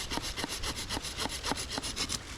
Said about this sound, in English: Now this saw doesn't do as good when it's a wetter material. It does better as a drier material.